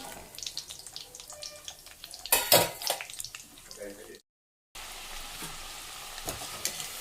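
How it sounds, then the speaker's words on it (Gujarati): Cauliflower frying in hot oil for undhiyu, a sizzling, stirring hiss with a louder burst of crackle midway, a brief cut to silence, then steady frying resumes close by. "ત્યારબાદ આપણે એમાં ફ્લાવર છે તળી લેશું"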